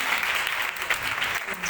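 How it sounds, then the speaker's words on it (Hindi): A children's worship conference audience claps in a brief, busy burst that stays steady and fairly loud. Voices murmur in the crowd as it claps. "ये तालियां बजाएं जी।"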